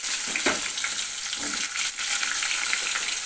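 Garlic, curry leaves and small shallots frying in oil, a steady hissing sizzle close up with a few louder spits and stirring scrapes, no voices.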